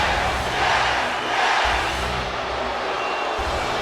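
A capacity arena crowd roars and cheers at a WWE Smackdown show in Los Angeles within a wrestling video game, a loud, steady wash of massed voices that swells slightly and never breaks.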